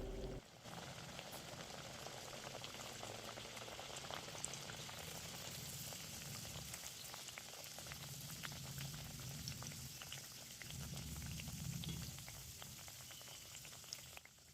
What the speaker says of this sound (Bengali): বেশ সুন্দর লাল লাল করে কচুরিগুলো ভাজা হচ্ছে